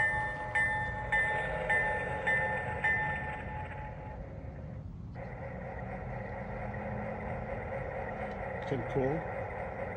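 A model railroad locomotive running on its track, a quiet, continuous mechanical whir with faint tonal whines, and a brief voice near the end.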